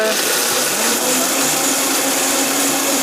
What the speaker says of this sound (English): we're going to puree it once again until it's very creamy